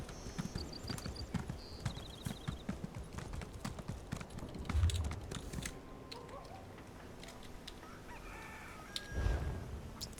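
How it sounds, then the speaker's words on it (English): A rooster crows in the Elder Scrolls Online game, a faint call over a steady bed of clip-clopping horse hooves, with soft game chimes and no voices. "That rooster sound."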